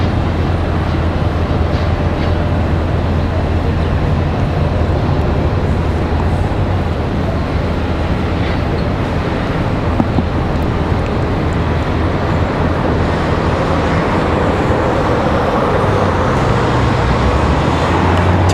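Aer Lingus airliner landing in the rain at Washington Dulles, a loud continuous roar of engines and rushing noise, steady throughout.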